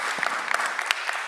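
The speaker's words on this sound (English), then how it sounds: "Round of applause." Workshop audience at a robotics conference applauding together, a dense steady patter of many hands clapping at moderate volume for the whole short stretch.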